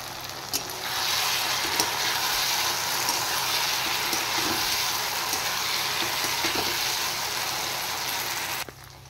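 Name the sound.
fried eggs added to a sizzling pan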